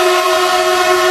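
Indonesia's Whoosh high-speed train gives off a loud, steady tonal hum with a sustained horn-like whine, filling the whole brief moment without pause.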